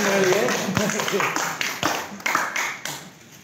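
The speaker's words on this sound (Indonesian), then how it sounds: "Tepuk tangan." A group of people clap hands at a village gathering with farmers, a dense sustained patter of claps with talk mixed in.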